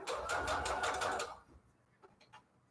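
Sewing machine stitching fabric ruffle trim: a fast, loud mechanical whirr for about a second and a half, then it stops, leaving a few faint clicks.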